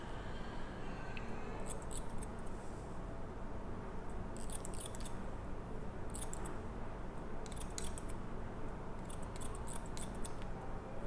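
Thinning scissors snip through hair at the sideburn in a salon, giving short bursts of crisp metallic cutting in irregular clusters over a steady background hiss, with no talking.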